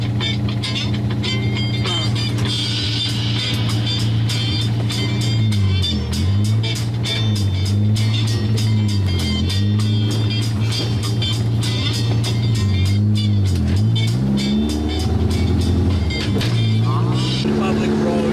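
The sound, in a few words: car driving on a public road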